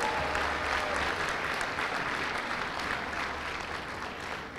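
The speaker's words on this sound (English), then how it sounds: "we'll clap for him anyway." Audience at a college commencement clapping for a graduate, a dense, steady round of applause from a large crowd that fades slightly toward the end.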